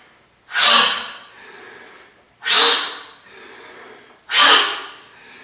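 Three deep, forceful inhalations during a yoga breathing exercise, each a loud close rush of air, evenly spaced about two seconds apart with quieter breath between them.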